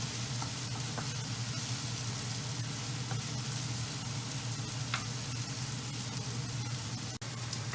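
Garlic and kale stems sizzle steadily in a hot pan, a continuous close crackling hiss over a low hum, with no talk.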